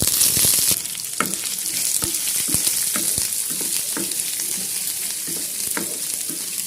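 Curry leaves and onion hit hot oil with browned chana dal and urad dal, giving a loud, steady sizzle, with a burst at the start and occasional sharp spoon clinks against the pan.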